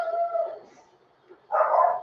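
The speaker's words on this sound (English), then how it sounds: "Let's see what Tula's barking about." A dog barks a couple of times at a moderate distance, short sharp barks separated by a brief pause, with no talk.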